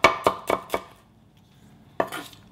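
A knife cuts through a spicy green chili pepper, such as a serrano, on a cutting board, giving four quick, crisp chops in a row, a pause, then one more cut.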